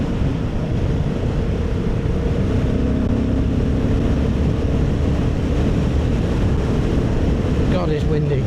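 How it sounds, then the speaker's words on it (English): Steady wind roars and buffets the microphone throughout, a dense low rumble with no pauses. "God, it's windy."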